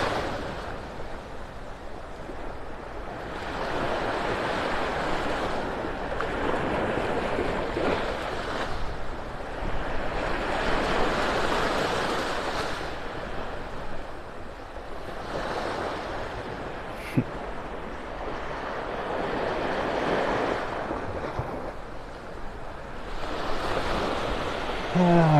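Small waves lap on a beach shore in North Naples, Florida, in gentle surging swells that rise and fall every few seconds. They sit under a steady wash of wind and surf, with a single sharp tap midway.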